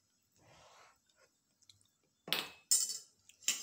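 Metal utensil scrapes and clanks against a cooking pot while mutton curry is stirred, a few sharp scraping strokes near the end after quieter shuffling, close and clear with no talking.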